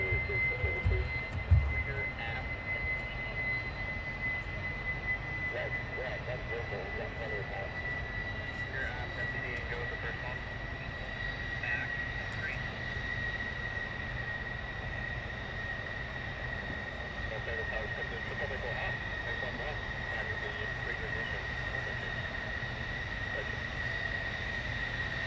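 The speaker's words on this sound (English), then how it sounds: "It looks like all the F-16s are inbound." F-16 fighter jets inbound to RAF Lakenheath produce a steady, distant roar with a high whine, continuous and fairly even throughout, with faint voices and background activity mixed in.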